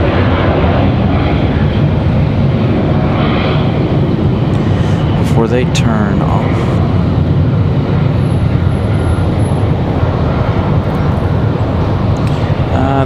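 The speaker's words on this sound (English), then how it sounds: "A couple of seconds of the A220 here" A Delta Airbus A220 from Boston roars at Raleigh Durham International in a loud, steady engine wash, with a passing whine midway and people talking over it.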